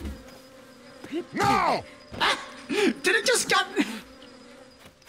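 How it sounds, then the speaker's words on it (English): In the video game Zelda: Tears of the Kingdom, a swarm of bees buzzes and attacks with rising and falling whines, while someone shouts and talks over them. "Did I just get sucker punched by bees?"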